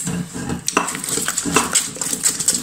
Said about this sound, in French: Voilà, je fouette pour que ça se mélange.